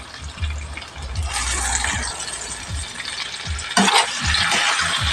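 Pork adobo with soy sauce and oyster sauce is stirred in a hot pan, a continuous sizzle with repeated scraping strokes of the utensil close by.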